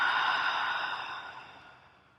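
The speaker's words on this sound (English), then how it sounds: "Opening the mouth, exhale." A long, slow exhale through an open mouth during a guided breathing exercise, a soft breathy rush heard close up that gradually fades over about two seconds.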